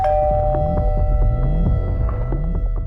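A two-tone doorbell chime rings out over a steady low hum and background music in a TV crime drama, repeating its notes a few times at moderate loudness.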